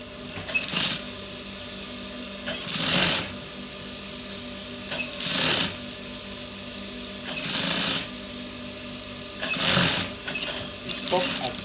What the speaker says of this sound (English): Then you top stitch again.